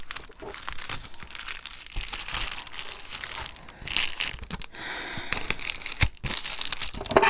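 Shipping paper crinkles and crunches close by as it is straightened out by hand for a journal cover, with irregular bursts of rustling and crumpling, loudest toward the end.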